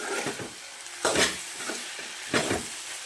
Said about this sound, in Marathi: तर हे बघा आता इथे टाकले मी भेंड्याची भाजी शिजत.